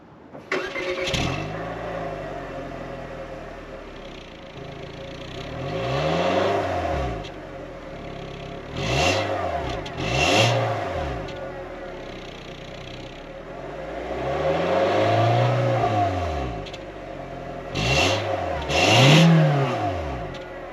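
A 2024 Nissan Versa SR engine revs and accelerates repeatedly on a test drive, each surge rising in pitch then easing off, loud and close with no voices.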